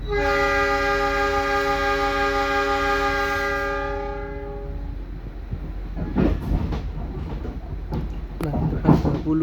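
A CC206 locomotive pulling a commuter train out of a station at night sounds a long, loud horn blast, then it fades into rumbling engine noise and rhythmic wheel clatter as the train pulls away.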